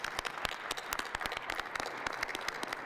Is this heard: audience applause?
yes